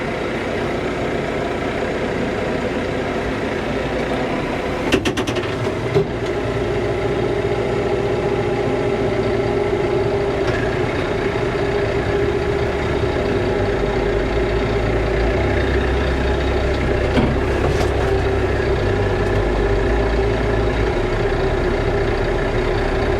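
A Kioti RX6620 tractor engine drones steadily and loudly from inside the cab while raking, with faint clunks and rattles of the rock rake now and then and no talking.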